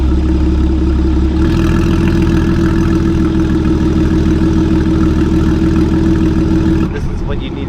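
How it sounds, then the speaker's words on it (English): Porsche 981 with a Soul Performance competition exhaust, valves open, fired up and settling into a loud, steady, deep idle with a throaty rumble that holds for several seconds before easing slightly at the end. "I'm gonna turn it on and then we'll see what it sounds like"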